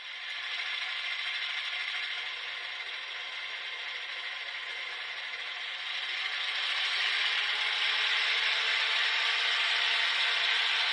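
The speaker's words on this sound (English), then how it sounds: "Hear the whine of the dynamic brake fans" Steady broadband whine from the dynamic brake fans of a Walthers HO-scale E9 diesel locomotive with an ESU LokSound decoder, CB&Q livery, holding even for about eleven seconds and swelling slightly louder near the end.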